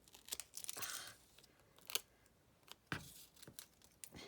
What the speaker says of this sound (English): now I'm just going to cut these apart with my very sticky scissors